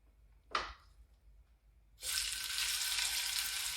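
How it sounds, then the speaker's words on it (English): A brief scrape and clatter, then a loud, steady sizzle as meat hits a hot pan and keeps searing. "You want to hear the sizzle when you put the meat in."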